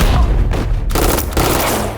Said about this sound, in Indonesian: terjadilah baku tembak di antara kedua kubu dalam jarak dekat hingga beberapa korban mulai berjatuhan